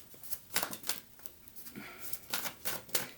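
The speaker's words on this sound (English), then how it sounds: "This deck's a little bit bigger, so it's a little bit more difficult to shuffle" A large tarot deck is shuffled by hand, giving quiet bursts of riffling and flapping cards in an uneven rhythm, close and soft with no talk.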